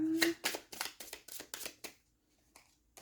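Tarot and oracle cards being handled and laid down on a reading spread, a quick run of close papery slaps and shuffles followed by near silence and a last soft card tap.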